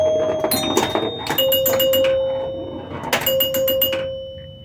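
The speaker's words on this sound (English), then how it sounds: "Obviously the chimes are super loud because I've got the glass off" Chimes ring out loudly from a Joker Poker pinball machine with its glass removed and coin door open, sounding as two separate bursts of clanging, overlapping bell tones with sustained ringing between them.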